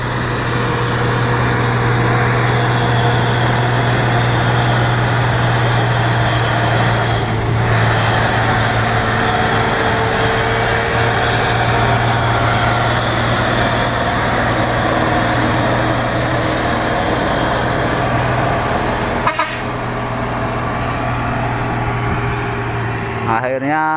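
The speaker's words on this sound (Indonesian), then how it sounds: "dari kedengaran suara mesinnya dia akan mampu mendaki tanjakan Bukit" A long trailer truck engine laboring up the steep Bukit Kodok hill, a loud, steady drone with a constant low hum that barely changes over the whole stretch.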